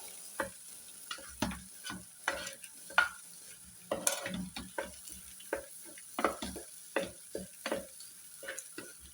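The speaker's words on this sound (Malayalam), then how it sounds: "നല്ല രീതിയിൽ ഒന്ന് ഇളക്കി നമുക്കിത് മിക്സ് ചെയ്ത് ഒന്ന് ഉടച്ചൊന്ന് യോജിപ്പിച്ചു കൊടുക്കാം" Leftover idli being stirred and mashed in a pan, heard as repeated scraping and knocking strokes of a spoon against the pan in an irregular rhythm, close and moderately loud, with no talking.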